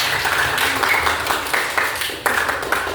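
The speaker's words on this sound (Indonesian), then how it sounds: "Tepuk tangan untuk Fernando." A classroom of students claps for a classmate, a moderate, slightly uneven patter of hands with a few sharper individual claps standing out, steady for a few seconds with no talking.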